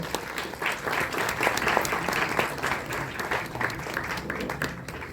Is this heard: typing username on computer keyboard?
no